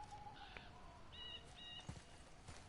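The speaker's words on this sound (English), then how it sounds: "I mean, I hear birds." Faint bird chirps and calls in a quiet outdoor scene of the game God of War, a few short tweets scattered over soft background ambience.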